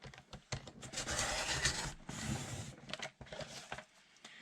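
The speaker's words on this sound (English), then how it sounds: "I just use my paper trimmer" Repeated scraping, slicing swishes of a paper trimmer blade drawn through paper, several quick passes with brief pauses between them, close and fairly quiet.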